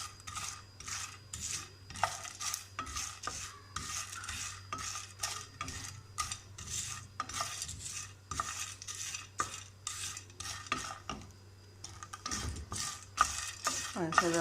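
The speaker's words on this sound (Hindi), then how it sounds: "पाँच से 10 मिनट हम इसको तरह हिलाते जाएंगे और हम इसको भूनेंगे स्लो फ्लेम पे" Whole green cardamom pods dry-roast on a slow flame while a spoon stirs them in a pan, making a steady run of quick rattling scrapes and clinks, close and fairly quiet, with no voices.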